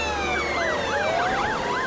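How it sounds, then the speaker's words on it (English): Loud, wailing flood sirens and emergency vehicle sirens rise and fall in overlapping cycles during flooding in Mansfield, one steady sweep mixed with a faster warbling tone, close by. "Flood sirens are wailing and emergency services sounds can be heard also in the background"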